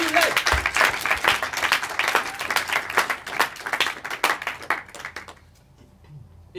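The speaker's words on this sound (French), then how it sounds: "on peut applaudir s'il vous plaît" Audience applause at an improv theatre show at the Paris improv festival, a dense burst of many hands clapping with some crowd noise, fading out over the last second or so.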